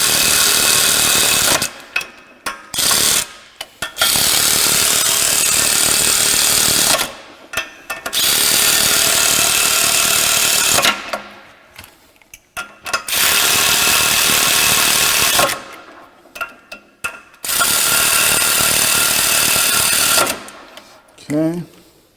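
A power tool runs down the bolts on a Ford F-150 8.8 rear axle during a re-gear, in several loud sustained bursts of mechanical whirring separated by short pauses.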